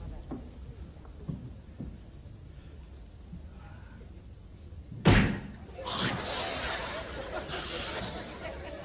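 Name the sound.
car door being opened and shut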